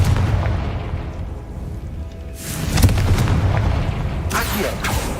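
Confringo blasting spell explosions in the Hogwarts Legacy video game, with two booming blasts amid rumbling game ambience and a crackling burst near the end.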